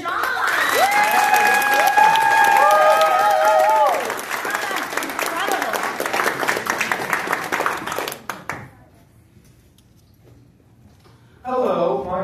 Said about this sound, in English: So please clap loudly for our friend John